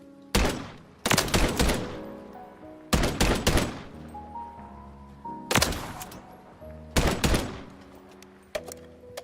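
Semi-automatic gun in a video game fires in short separate bursts of loud sharp shots, about five groups over several seconds, each followed by ringing tails and game tones, with no talking.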